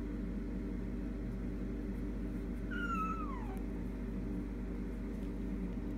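A single drawn-out kitten meow, high and descending, rises once from a constant low hum in an otherwise quiet room.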